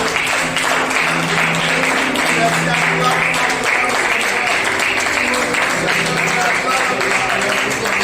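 A church congregation claps and acclaims God after prayer, a steady wash of applause and cheering lasting several seconds. A voice speaks briefly over it.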